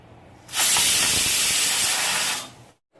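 A loud, steady rush of steam hisses out for about two seconds, then cuts off abruptly into silence.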